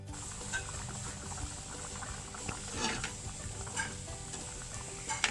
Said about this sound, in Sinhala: මෙහෙම තියෙන අතරේ මේක හැඳි ගන්න ඕනේ, නැත්නම් අඩිය අල්ලන්න බලනවා.